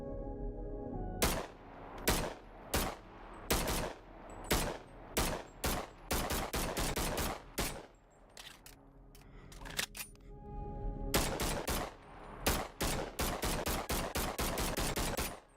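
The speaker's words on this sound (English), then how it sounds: "How far away can I shoot this guy in the face?" Rapid bursts of video game gunfire aimed at another player, loud and close, in repeated volleys with short gaps, a long sustained stretch near the end, with no talking.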